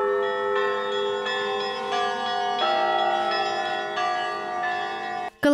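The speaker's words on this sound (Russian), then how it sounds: "Колокольный звон возвещает о прибытии архиепископа." Church bells peal steadily, struck in overlapping rings that sound as an archbishop arrives for a service.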